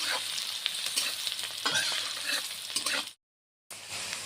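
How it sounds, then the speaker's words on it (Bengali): Onions fry in a little oil in a pan with bay leaf and green chillies, a continuous crackling sizzle with scraping stirs, cut by a brief silent gap near the end. "ভালো করে অল্প ভেজে নিতে লাগবো পেঁয়াজটা।"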